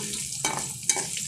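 Dried red chillies and peanuts fry and sizzle in a pan for a Telugu peanut chutney, a steady close crackle with a couple of sharper bursts as the mix is stirred.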